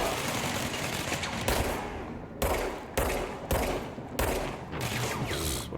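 Gunfire in the game Control, loud, dense bursts of rapid automatic shots broken by short gaps, close and continuous across several volleys with no voices.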